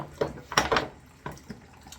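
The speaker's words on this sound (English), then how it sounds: "Trying to fill up this little bowl with water." Tap water runs into a small bowl in quick, uneven splashes and gurgles, close and moderately loud, with brief pauses between bursts.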